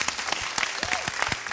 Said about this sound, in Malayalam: എല്ലാവരും ചേർന്ന് ഒരു വലിയ കയ്യടി.